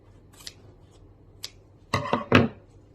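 Scissors cutting blockout window covering material for a Mitsubishi Rosa bus conversion: a few faint snips early, then three sharp, close crunching cuts near the end, with no voices.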